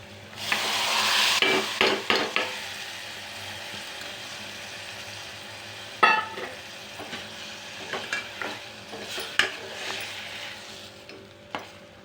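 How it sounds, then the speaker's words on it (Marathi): Steamed moth beans and potato go into frying masala in a pan, with a sizzle followed by scattered spoon scrapes and clinks over a low hiss, close and without speech. "आता याच्यामध्ये मी वाफवून घेतलेली मटकी आणि बटाटा टाकते"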